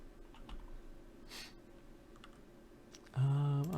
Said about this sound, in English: Okay, so that's the key card.